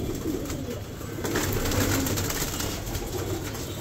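Fighting pigeons from Amroha coo softly and steadily against a constant background hum, with no voices.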